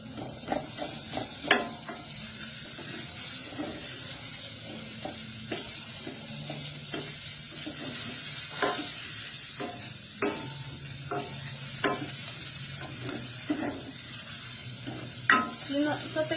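Onion fries in a pan with a continuous soft crackling sizzle, punctuated by irregular sharp clicks and taps of a utensil against the pan, close but moderately quiet.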